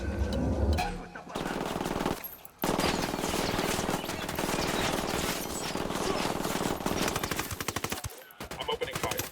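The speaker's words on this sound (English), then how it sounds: "I'm opening fire." Sustained automatic gunfire in the tactical shooter video game Ghost Recon Wildlands, loud and dense, with rapid continuous rattling bursts broken by a couple of brief pauses, a voice faintly present.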